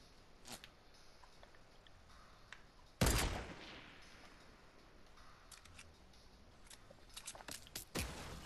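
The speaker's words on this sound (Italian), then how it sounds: "Ah, sta sparando." Enemy gunfire in a video game cracks out as a few sharp, isolated shots, one loud close blast with a lingering tail and fainter pops before and after, with quiet between them.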